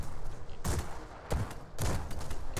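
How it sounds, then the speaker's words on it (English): An Imperial Cannon in the Airships: Conquer the Skies video game fires at an airship in three heavy booming shots, each followed by rumbling impact noise over constant battle din. "I love it when the Imperial Cannon lands."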